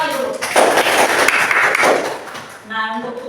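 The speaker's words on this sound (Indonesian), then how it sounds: "Tepuk tangan sekali lagi dulu." Students in a mathematics classroom clap together in a short burst lasting about two seconds, loud and close, with a teacher's voice before and after.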